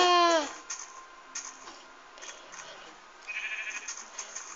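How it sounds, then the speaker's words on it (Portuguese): A Minecraft sheep gives a short bleat at the start, followed by quiet game sounds and faint background noises. "Uma ovelha!"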